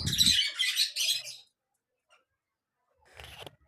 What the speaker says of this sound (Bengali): আমার খামারের পাখি